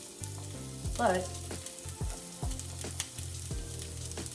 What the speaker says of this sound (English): I'm gonna go ahead and throw my onions in. Oh yeah, a little sizzle.